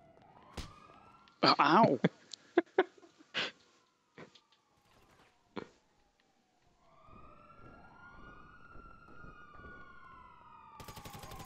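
A police siren in a video game wails in long sweeping tones, rising and falling, after a burst of sharp bangs and clicks near the start. A voice briefly exclaims over it.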